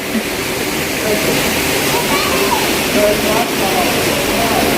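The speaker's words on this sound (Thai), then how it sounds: "น้ำตกที่เราดูจากข้างบน สวยอะ" A waterfall at Grotta Urlante in Premilcuore, Italy, roars steadily and loudly throughout, a dense continuous rush of falling water heard from nearby.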